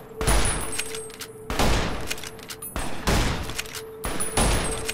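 Gunfire from a gun in the video game Fallout New Vegas, four loud bursts of rapid shots with decaying echoes between them, close and dominant.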